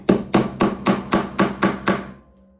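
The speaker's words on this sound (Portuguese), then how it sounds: "Você pode usar esse martelo que é de borracha, usar esse de madeira também" Eight quick, evenly spaced blows from a mallet drive wooden dowels into drilled holes, each strike sharp and close, ringing briefly before fading out.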